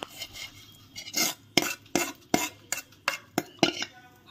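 A metal spoon clinks and scrapes against a pan while roasted semolina (rava) is stirred: about a dozen sharp, close knocks in an uneven rhythm over soft background hiss, with no talking.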